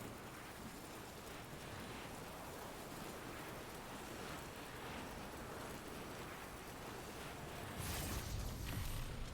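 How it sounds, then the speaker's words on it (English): Heavy rain from a huge storm in the video game Death Stranding pours as a dense, continuous roar that swells slightly louder near the end, with no voices. "I don't want to be traveling in all this rain"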